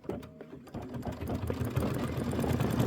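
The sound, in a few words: Kimberbell embroidery machine stitching a bicycle block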